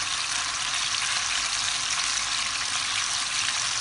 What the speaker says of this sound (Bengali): মাছে ভেজে নেব